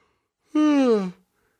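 A man's single yawn, close and fairly loud, a drawn-out voiced exhale sliding downward in pitch for about half a second, alone in an otherwise quiet setting.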